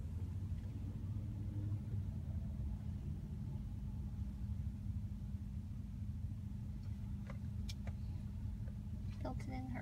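Steady engine rumble and road noise from inside a moving car, constant and moderately quiet, with a few brief clicks near the end.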